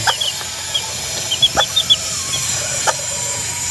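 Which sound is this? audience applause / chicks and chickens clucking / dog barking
chicks and chickens clucking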